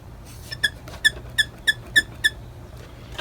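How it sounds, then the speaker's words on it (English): An RCA 26X4 television with a loose base lets out six short, high chirping squeaks in a steady rhythm, close and clear against a quiet background. "that squeak is from the base being loose"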